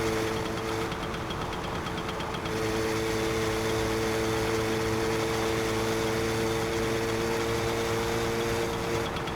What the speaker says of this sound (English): this should be the last of the major engine noise we need to worry about